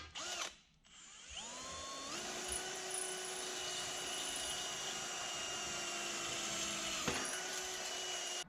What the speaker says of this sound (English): drill the holes for the big piece